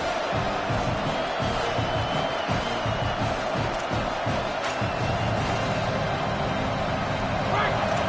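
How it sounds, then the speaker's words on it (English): A large American football stadium crowd at a Falcons game roars continuously, a dense wall of cheering and noise that stays loud and steady throughout. "Listen to this crowd just shaking the girders of this place, trying to help their defense."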